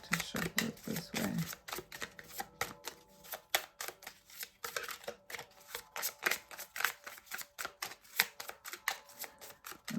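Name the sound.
shuffling a deck of tarot cards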